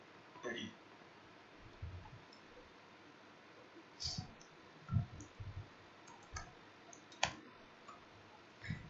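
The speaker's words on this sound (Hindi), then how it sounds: "टाइगर पे क्लिक किया और इमेज पे क्लिक कर दिया मैंने।" Computer mouse clicking during a basic computer lesson, a series of sparse, quiet single clicks at irregular intervals, heard alone without talk.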